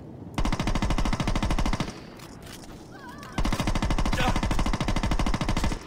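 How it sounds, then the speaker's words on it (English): Rapid automatic gunfire in the video game Saints Row 2, two long loud bursts of fast, evenly spaced shots separated by a short pause with faint background noise. "Just keep shooting."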